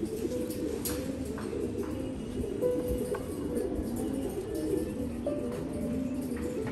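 A racing pigeon coos in a loft, soft repeated throaty calls close by over a steady background murmur, with no clear speech.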